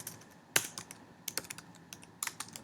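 Quick bursts of typing on a computer keyboard while entering a variable label, close and fairly quiet, with irregular clusters of key clicks and short pauses.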